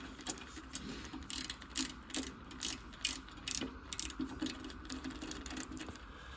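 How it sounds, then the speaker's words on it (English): Screws are backed out of a table saw's guard plate, giving quiet, close ratcheting clicks in short irregular bursts separated by brief pauses. "this one has just got a couple of screws in it, so I'm just gonna unscrew it"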